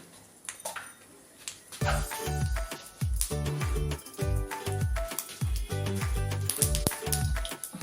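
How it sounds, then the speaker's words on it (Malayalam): Mustard seeds splutter in hot oil with continuous fine crackling and popping, broken by repeated louder spits and bursts, close up. "കടുക് പൊട്ടി തുടങ്ങി."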